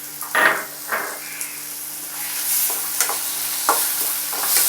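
Large onions sautéing in a pan for mushroom dosa, a soft sizzle beneath intermittent stirring scrapes and light clinks of a spoon against the pan, close up with no voices.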